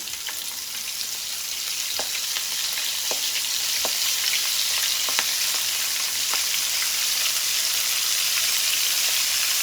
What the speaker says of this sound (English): Yeah, hear that sizzle? That's what you want.